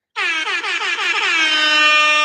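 A loud air horn sound effect blares close up for about two seconds, starting with quick stuttering pulses before settling into one steady, sustained blast, with no talking.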